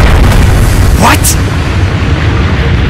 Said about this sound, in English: A bomb?